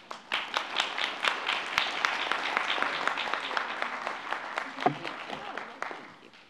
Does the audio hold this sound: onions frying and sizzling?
no